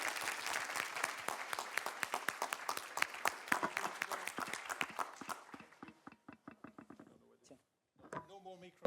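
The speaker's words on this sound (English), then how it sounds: "a big applause now to all of speakers, participants, and organizers" Loud, dense applause from a conference audience at the close of an annual event, steady clapping for about five seconds before thinning into scattered claps and fading, with a brief voice near the end.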